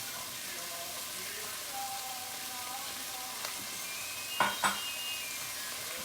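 Carrot and celery sautéing in a pan over a gas flame, a steady soft sizzle throughout with a couple of brief louder clinks or stirs near the end; no one talks.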